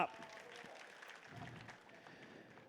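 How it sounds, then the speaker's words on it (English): Conference audience at a Tokyo city-tech pitch event applauds after a presentation, a soft, diffuse patter of many hands heard from a distance, with a voice over the top. "Another round of applause, please."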